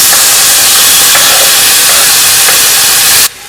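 Chopped tomatoes go into a hot pan of sautéing chilli and ginger for spicy tomato dosa, giving a loud, steady sizzling hiss with faint stirring clicks that cuts off abruptly near the end.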